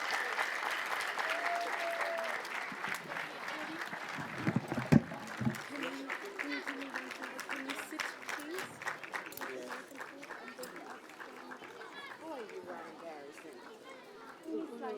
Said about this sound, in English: give her a warm clap because she's a wonderful, wonderful person